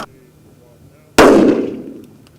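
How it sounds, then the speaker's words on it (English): A single L2A2 electric detonator is fired in the open: after a quiet stretch, one sharp, loud blast cracks out and trails off in a rumbling decay over about a second. "we're going to fire an electric det in the open"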